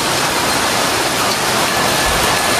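Heavy rain pours down steadily on a house under construction, a dense, loud, unbroken roar with no gaps across the whole stretch.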